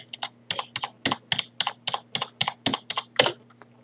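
Fingers type a Minecraft warp command on a computer keyboard, about fifteen crisp, close keystrokes in a quick, uneven rhythm over a faint steady hum.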